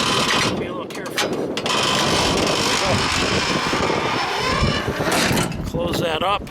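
A 2015 Caterpillar 349E excavator engine runs with a loud, steady mechanical drone that holds for several seconds, with brief voices heard over it near the end.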